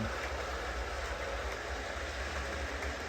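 Model train wheels clatter along the track in a steady, continuous rumble, fairly close, with no voices.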